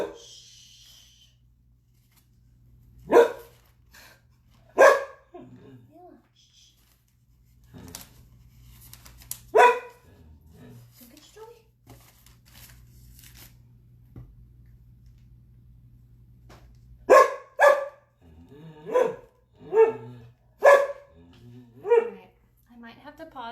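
Dog barks indoors in scattered sharp bursts, sparse at first then a rapid cluster, over faint background hum with some low talk.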